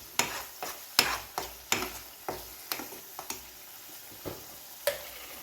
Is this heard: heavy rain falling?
no